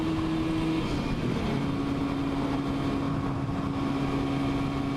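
A 1972 Yamaha RD 350 two-stroke motorcycle engine runs steadily and loudly at close range, its tone shifting slightly as it revs, with no talking.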